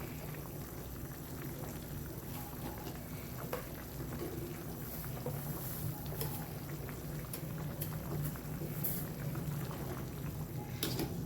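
Spicy Thai pork leg soup with mushrooms simmers in a pot, a steady soft bubbling and popping close by, faint and continuous with no talking.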